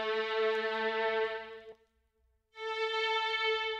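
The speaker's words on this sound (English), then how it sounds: "Next thing I've added are the strings from Expand called bright legato pad." A bright legato string pad from the Expand synth plugin holds a sustained harmonic-rich chord, cuts out briefly near the middle, then swells back in loud and steady, with no voices.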